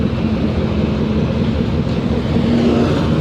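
Road traffic near a CN train crossing at rush hour, with cars and a bus held up. A dense, steady low rumble fills the whole stretch without any distinct single pass-by.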